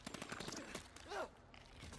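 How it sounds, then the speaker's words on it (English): Rapid bursts of gunfire in a Kong: Skull Island film scene with a giant insect, a dense rattling volley with a brief louder whoosh, heard at moderate level without talk. "Damn, he's pretty good at shooting."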